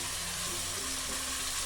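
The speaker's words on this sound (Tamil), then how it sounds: "இந்த ஸ்டேஜில் நம்ம கறி போட்டுக்கலாம்." Chicken fries with tomatoes in a biryani pot, giving a dense, even hiss of sizzling that holds steady and loud for under two seconds.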